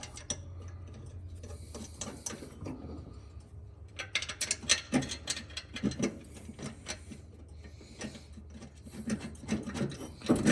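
Bolts being tightened with a ratcheting tool during a repair, fast clicking and whirring bursts in short runs, close and moderately loud.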